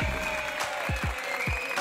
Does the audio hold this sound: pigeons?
no